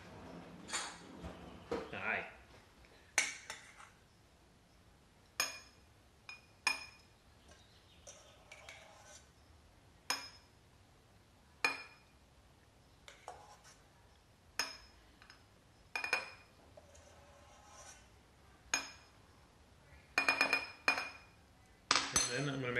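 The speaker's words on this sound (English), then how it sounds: "we're just gonna spoon the foam on top of it" A spoon scoops foam onto a matcha shot in a double-walled glass, giving a series of sharp clinks and taps spaced irregularly, with a person talking between them.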